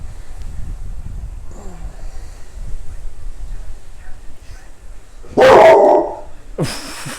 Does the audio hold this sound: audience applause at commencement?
no